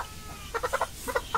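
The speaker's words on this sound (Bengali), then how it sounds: "এটা একটা মোরগের বাচ্চা, সরি মুরগির বাচ্চা।" A hill-breed chicken chick in a farm shed gives a quick run of soft, bright peeping clucks in two short bursts, faint and close, with no talk.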